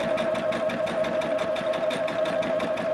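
A sewing machine runs steadily for a quick basting stitch while a dahlia table topper is being made, giving a continuous close mechanical whir with a fast even needle rhythm throughout.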